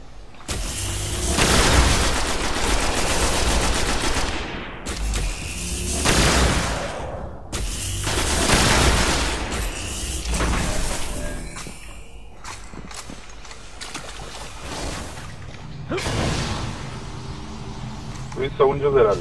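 Heavy bursts of weapon fire and booms in the Destiny beta on PS4, loud stretches of shooting broken by short gaps and a quieter later run of shots, with someone talking over parts of it.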